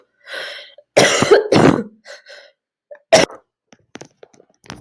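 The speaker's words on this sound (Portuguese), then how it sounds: "Fiz uma pausinha para tossir." A few sharp coughs close up during a lecture, two bursts in quick succession followed by a single cough, with quiet breaths and small noises between.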